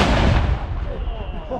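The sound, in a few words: big military guns firing blanks at a military show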